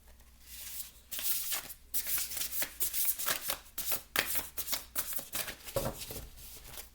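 Tarot cards shuffled for a reading, a steady run of crisp riffling and flicking bursts repeating for several seconds, close and fairly soft, with no talk.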